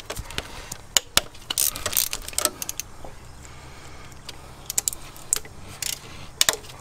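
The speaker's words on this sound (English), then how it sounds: "take a ratchet and a decent extension and a 13 millimeter socket. And we're gonna loosen these hold down blocks." A ratchet with a 13 mm socket and extension loosens injector hold-down blocks on a MK4 Jetta or Golf ALH TDI engine, giving bursts of quick metallic clicks and taps with pauses between them.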